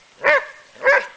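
A dog barks at a cobra, two sharp close barks about half a second apart.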